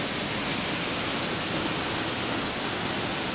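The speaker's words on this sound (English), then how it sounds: "Hey Brendan, what do you think about the waterfall?" Waterfall of about 200 feet on a hike, heard as a continuous loud broadband roar of falling water that holds steady the whole time with no voices.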